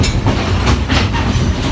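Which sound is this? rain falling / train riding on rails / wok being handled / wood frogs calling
train riding on rails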